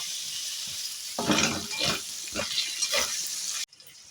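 Tomatoes dropped into a hot pan with crushed ginger and green chili for a winter-vegetable bhog khichuri, a steady close sizzle that swells into louder crackling bursts, then cuts off abruptly.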